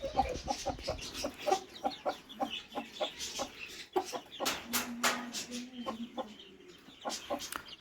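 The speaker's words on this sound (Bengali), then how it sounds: "এটার মধ্যে বসে আছে আমার মুরগিটা" A brooding hen sitting on eggs clucks repeatedly in short, uneven bursts, close by, with a few louder squawks in the middle.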